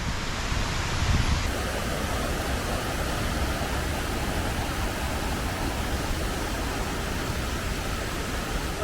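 A steady, dense roar of rushing water from Meenvallam waterfalls in Palakkad fills the scene without letting up, with no voices.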